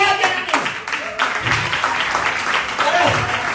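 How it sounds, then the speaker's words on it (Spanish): An audience at a live dance and magic show claps, a burst of applause mixed with cheering voices and people talking loudly over it. "¡Aplausos gigantes!"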